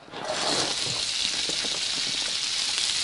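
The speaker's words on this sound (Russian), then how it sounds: "А сейчас в это масло мы выкладываем наш лучок." Onion hits hot oil left over from frying fish and sizzles hard, a loud, steady hiss with faint crackles throughout.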